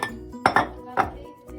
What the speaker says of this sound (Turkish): Patateslerimi hemen karıştırma kabının içine aldım.